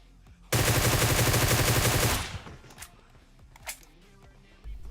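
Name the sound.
gunfire in the video game PUBG Mobile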